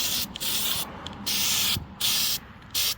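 An aerosol can sprays coating onto galvanized steel in four bursts of steady hissing, each lasting about half a second, close by with short gaps between.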